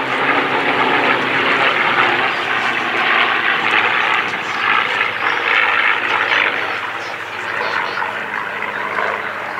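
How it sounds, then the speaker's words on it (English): North American P-51D Mustang warbirds flying a break to come around and land, a loud sustained propeller-engine roar close overhead with a steady rumble, rising and falling slightly over about ten seconds, with no voice. "And our Mustangs perform a break to come back around to land."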